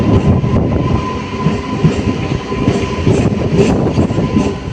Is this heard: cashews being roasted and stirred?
no